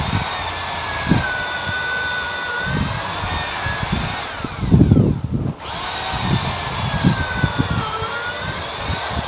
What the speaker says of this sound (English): he's going to drill a series of holes at this end